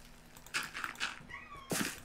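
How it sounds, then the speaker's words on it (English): A cat meowing at a door indoors, several short faint mews in quick succession against quiet room tone. "There's a cat at my door meowing."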